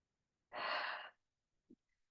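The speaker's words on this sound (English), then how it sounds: "Take a deep breath in and out." A single deep breath, drawn in or let out as one broad, airy rush lasting under a second, close and soft during a standing yoga flow, followed by a brief faint rustle.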